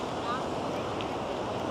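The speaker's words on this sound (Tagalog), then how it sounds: "Ayan naabot na tayo nung alon." Sea waves wash up on Patong Beach in Phuket, Thailand, a steady rushing surf with wind buffeting the microphone and no distinct breaks.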